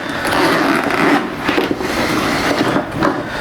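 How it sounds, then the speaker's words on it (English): A steady zipper on a Vanucci VS05 motorcycle tail bag being drawn open in one long continuous pass, with a few small rasping bumps along the way, close up. "So then we undo this zipper here."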